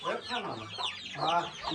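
Roosters clucking close by in a coop holding a few birds, low throaty clucks overlapping with quiet talk over a short stretch.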